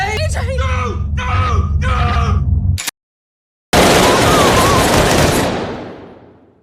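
A burst of rapid gunfire from the film Unfriended: Dark Web follows a man's screams and pleading shouts, then drops to a brief silence before a loud, dense fusillade that slowly fades out.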